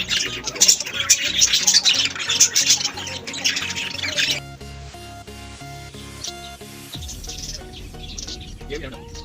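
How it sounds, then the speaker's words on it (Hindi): Birds squawk and chirp loudly in a dense, busy chorus of calls, close by at first, before the scene shifts to softer tonal music and background sound. "सबसे पहले तो परिंदों की खूबसूरत सी आवाज़ सुनिए"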